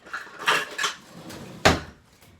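A spoon clinks and scrapes against a bowl while cake batter ingredients are stirred by hand, giving a few sharp knocks and a scattering of quieter taps, close and alone.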